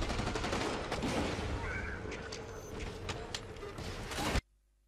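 Turret gunfire in the shooter game Blacklight Retribution, a dense loud barrage of overlapping shots and impacts that stops abruptly into near silence.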